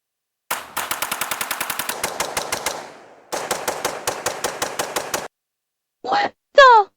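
A firearm fires rapid bursts of rounds, loud sharp reports in fast regular strings with a pause between bursts, followed by a couple of metallic clanks, no talking.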